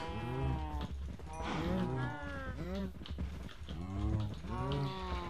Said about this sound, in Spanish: Vacas, vacas, vacas. Quiero vacas.